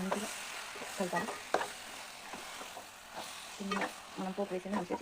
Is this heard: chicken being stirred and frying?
yes